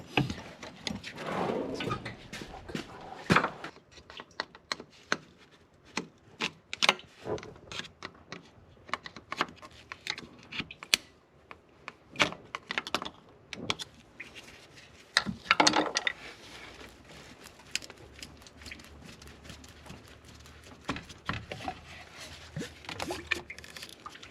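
Clicks, snaps and soft scraping of a hose clamp plier tool releasing a radiator hose on a 2011-2014 Ford F150 5.0 during water pump replacement, scattered irregular close taps across the stretch.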